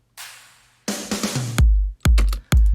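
A drum fill in the second drop of an electronic dance track: a burst of rapid hits followed by three heavy, booming kick-like blows, loud and alone with no talk.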